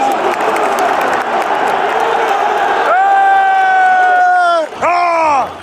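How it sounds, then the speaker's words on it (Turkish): A large stadium crowd at a Galatasaray football match roars and claps in a broad, steady wash of noise, with a loud whistling tone rising over it near the end. "Herkesten alkış oluyor Osman."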